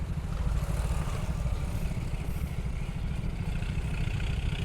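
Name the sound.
plantation tractor approaching on road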